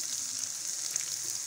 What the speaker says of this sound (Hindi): और तड़का लगा देंगे।